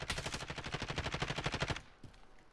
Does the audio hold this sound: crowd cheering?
no